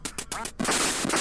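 Electronic duck quacks from the NES game Duck Hunt, several bursts in quick succession followed by a sustained buzzy game sound, loud and clear with no talking.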